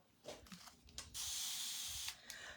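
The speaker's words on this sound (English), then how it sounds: "I like to spray some water in, some distilled water in my paste before I put it away" Several short puffs from a spray bottle mist distilled water into chalk paste, then one longer steady hiss, close and fairly quiet.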